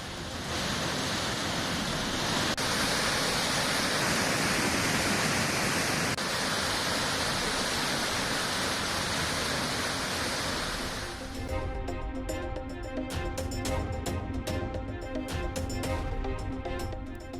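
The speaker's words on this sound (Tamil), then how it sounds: "அருவியில் ஆர்ப்பரித்து கொட்டும் தண்ணீர்." Kutralam waterfall in flood, water gushing down in a heavy, continuous roar that holds steady for about eleven seconds before abruptly giving way to different, more tonal sounds.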